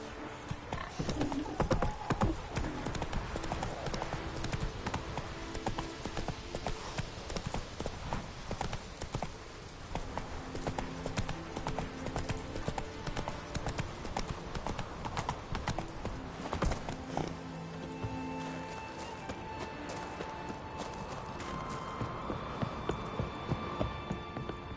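A horse galloping in The Witcher 3: Wild Hunt, rapid clip-clop hoofbeats pounding continuously and close, with an occasional whinny, game music and ambience underneath.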